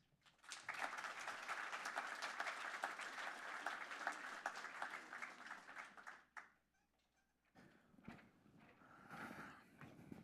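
An audience at a conference on rural poverty and ecosystem restoration breaks into sustained applause to welcome a speaker to the stage; the clapping is steady for about six seconds, drops to near silence, then a softer patch of noise follows.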